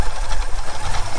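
Supercharged G-body car engine idles with a fast, pulsing, lumpy chatter, loud and close over a very short stretch.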